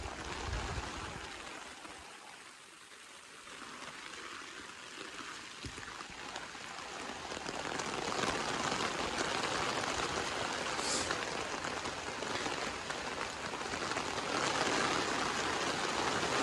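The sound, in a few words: fairly heavy rain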